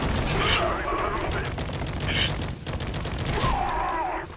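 Dense, continuous gunfire from a Spec Ops: The Line firefight, overlapping bursts filling the scene loudly with no break.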